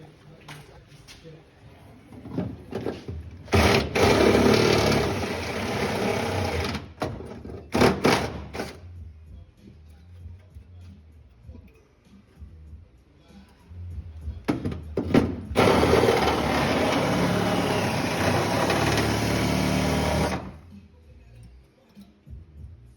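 A step drill grinds into metal in two long, loud bursts with a pause between them. Short clicks and handling noises sit in the quieter stretches.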